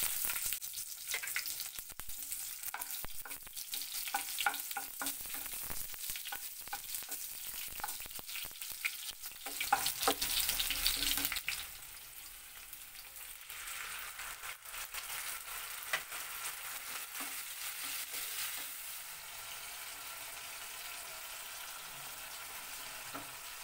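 Chopped onion hits hot oil tempered with nigella seeds while preparing salted hilsa, giving a loud, close, steady sizzle that swells around the middle and then settles into an even hiss. No talking.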